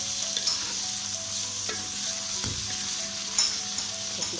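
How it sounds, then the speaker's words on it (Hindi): Chicken pieces fry and get stirred in a pot for Shinwari-style chicken biryani. There is a steady close sizzle throughout, with occasional scrapes and clinks of a spoon and no talking. "चिकन को हम अच्छी तरह भूनेंगे ताकि जो चिकन का स्मेल होता है वो इसमें से खत्म हो जाए"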